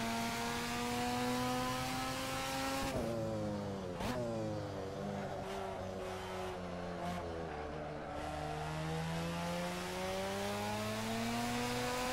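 Tuned Mazda RX-7 in Assetto Corsa, driven at Barbagallo with overheating tires, wails in a steady high rotary scream that dips and climbs through shifts and slides, loud and continuous with no talk.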